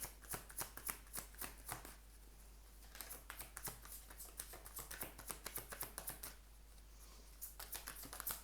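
Tarot cards shuffled by hand, a quick, crisp run of riffling and flicking slaps repeating through the whole stretch, close and fairly quiet with no talking.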